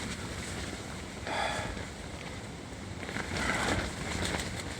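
Strong wind roars against a Rightline Gear truck tent as a steady broadband rush, swelling into louder gusts around the middle and near the end, close and constant with no talk.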